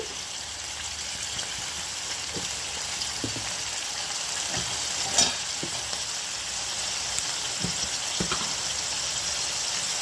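Chopped country tomatoes cook in a ladleful of oil with salt in a pan for an old-style Andhra tomato pickle, a continuous close sizzle broken by a few soft clicks and stirring scrapes.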